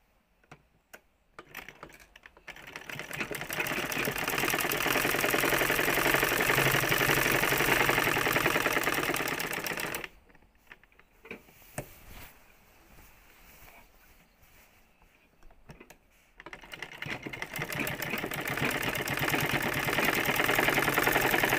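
A sewing machine runs in bursts while stitching a dress seam backward in reverse, a fast mechanical chatter, loud and close, with a quieter pause in the middle before the stitching resumes.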